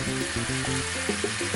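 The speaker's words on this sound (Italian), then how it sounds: "adesso sfumiamo col vino bianco. Alziamo la fiamma e lasciamo evaporare." Salmon sizzles in a hot pan as white wine goes in to deglaze, a steady close hiss filling the whole clip while a stepped melodic tune plays underneath.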